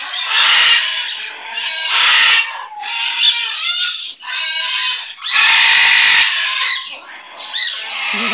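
A pet bird squawks loudly and repeatedly at close range, harsh raspy bursts in an uneven run with brief pauses and a few higher chirps between them.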